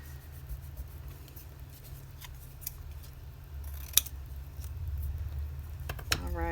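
Scissors trim a small square of paper for an inchie, a few close crisp snips scattered over low room noise, with a faster run of cuts near the end.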